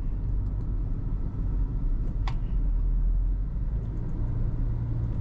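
Nissan Magnite turbo CVT in D mode climbing a bridge at about 40 km/h, a steady low engine drone and road rumble heard from inside the cabin, continuous and even with no talking.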